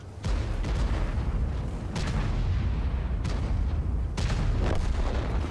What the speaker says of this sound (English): artillery is popping shells